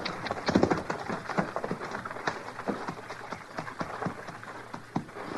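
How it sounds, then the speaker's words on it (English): Horse hooves clip-clop steadily along with rattling and creaking as a horse-drawn wagon approaches at a moderate distance, a sound effect in a 1956 radio western drama. "It's a wagon. Coming this way."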